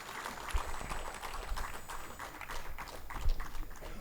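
An audience at the Samanvay 2025 event applauds to welcome grassroots leader Devaji Tofa, a faint, dense patter of clapping heard at a distance.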